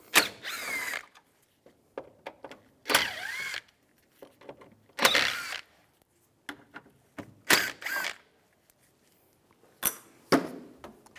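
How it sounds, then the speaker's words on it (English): A ratchet with a T30 socket works screws out of a 2004-2010 BMW X3 intake area in about five separate bursts of close, quick clicking, divided by quiet gaps and small handling knocks. "Now we'll take these 4 screws out, use the same T30 socket."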